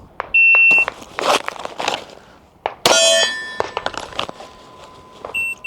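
A shot timer beeps sharply during holster draw drills at a cold outdoor range, its tone followed by loud metallic clangs of steel target hits and gunfire, repeating twice across the clip with no talk over the sounds.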